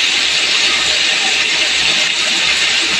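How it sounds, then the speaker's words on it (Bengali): Pieces of pointed gourd fry in plenty of oil, giving a loud, close, continuous sizzle that holds steady throughout. "তেলে ভাজা হলে কী হবে, পটলগুলো একটু ভাজবে তাড়াতাড়ি।"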